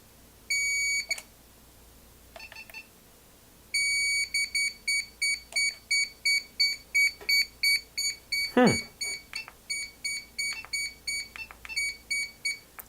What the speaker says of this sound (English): it made the beep that it was talking about